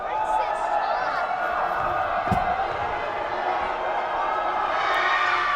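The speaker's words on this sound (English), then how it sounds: "This raucous crowd letting their voices be heard." Raucous home crowd cheering and shouting at a high school girls basketball playoff game against Billerica, a dense sustained roar filling the gym with one brief thump near the middle.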